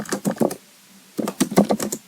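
Fast clattering keystrokes on a computer keyboard as a terminal install command is typed, two bursts of clicks separated by a short pause, close and clear with no talk.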